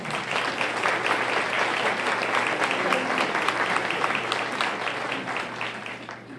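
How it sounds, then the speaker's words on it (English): An audience applauds an education award at an arts festival event, a steady round of many hands clapping at moderate distance, sustained for several seconds before tapering slightly, with faint crowd murmur underneath. "let's give a round of applause to Springboards to Education for this award"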